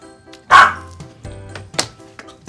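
A dog gives a loud close bark followed by softer yips and whimpering sounds in a quiet home.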